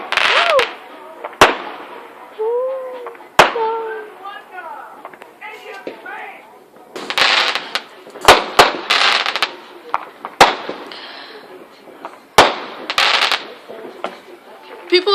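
Fireworks and firecrackers go off at night with sharp bangs and crackling bursts, scattered irregularly and fairly loud, while people talk between and over the explosions.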